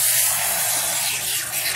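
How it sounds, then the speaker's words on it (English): A hose sprays water deep into a horse's tail during a rinse, giving a continuous, close, bright hiss with no breaks and no voices. "Spraying deep in the tail, you really want to get all of the product out that you can."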